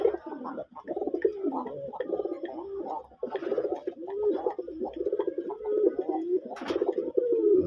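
A desi raj golla pigeon cooing at close range, a run of deep throaty rolling coos repeated almost without pause, loud and clear with no talk over it.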